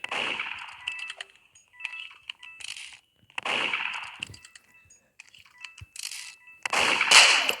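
Gunshots in the Roblox game Murder Mystery 2 come as several sharp bursts with ringing, metallic tails. Chimes and pings sound between them, and no one talks.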